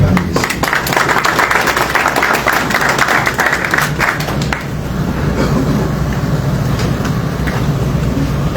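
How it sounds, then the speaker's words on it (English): Audience members at a World Bank Africa policy panel applaud the panelists, a loud dense burst of clapping that fades into room noise and low murmur after a few seconds. "please a round of applause for our panelists"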